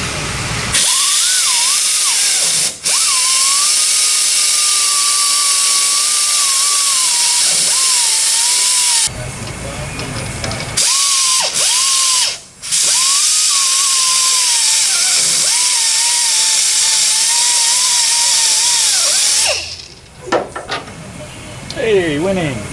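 A loud, high-pitched whining grinder cutting away metal on a notchback Mustang's suspension, sustained close grinding with a few brief pauses and changes in pitch, with a short hiss near the end.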